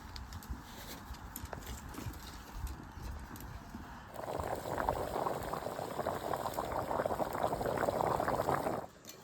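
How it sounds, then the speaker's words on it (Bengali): A thin vegetable curry for boal fish, with water just added, simmers in a pot. A soft bubbling background swells partway through into a loud, dense, continuous boil that stops abruptly near the end. "তরকারিটা একটু ফুটতে থাকবে"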